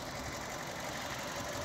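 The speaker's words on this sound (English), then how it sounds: "Just start with the engine." A Ford Ka with 65,000 miles idles in a steady, even drone, close by and alone, with a faint mechanical rattle under the hum.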